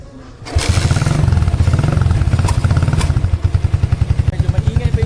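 A Keeway Cafe Racer 152 motorcycle engine, started after six months of sitting and run without oil, chugs loudly and unevenly in a fast, clattering idle that carries on steadily up close.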